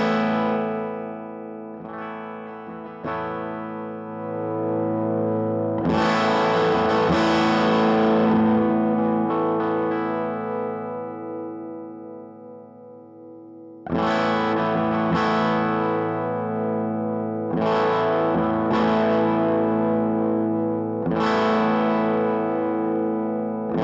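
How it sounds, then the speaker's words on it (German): Electric guitar played through a Vox Valvetronix VT20+/VT40+ modelling amp set to its UK Rock amp model, ringing distorted chords and sustained notes in bursts separated by short pauses, loud and close with no talking. "Ich habe mir ein UK Rock Amp genommen und drehe mal ein bisschen an den Potis und höre,"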